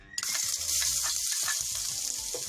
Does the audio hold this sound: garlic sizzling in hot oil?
yes